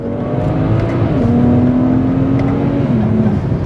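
A naturally aspirated BMW 130i hatch engine drones loud and close while driving, its pitch stepping down twice as the car moves through corners.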